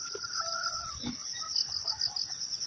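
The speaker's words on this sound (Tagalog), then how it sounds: "Mamanok ni Brad oh damo." Chickens cluck and chatter intermittently nearby over a steady high-pitched insect-like drone, with no talking, in a rural countryside setting.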